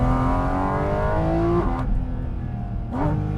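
A Porsche GT4 RS with a naturally aspirated engine and PDK gearbox revs hard, the pitch climbing steadily through the gears with quick shift breaks around the middle and near the end, heard loud and close from inside the car.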